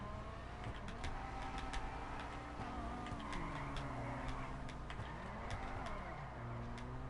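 A car drifting in the GTA video game: a steady engine drone and tyre noise with wavering pitch as it slides through turns, with faint ticking clicks on top and no talking.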